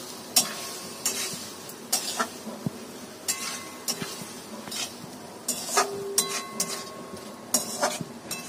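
Potatoes for chana dal are stirred in a frying pan, several sharp metal scrapes and clinks of a spatula at irregular intervals over a soft continuous sizzle, close by.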